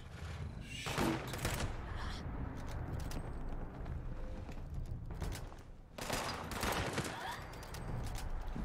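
Gunfire rattles in the online game Fallout 76, with dense bursts of shots near the start and again later over a constant loud layer of game noise.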